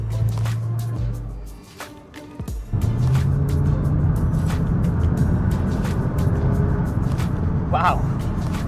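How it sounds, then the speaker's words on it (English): A 2008 Nissan GT-R R35 twin-turbo engine hums low, then swells into a loud, steady roar as the car accelerates hard, with someone talking over the sound from inside the cabin. "as soon as I put my foot down, the power that I get out of the twin-turbo engine is incredible"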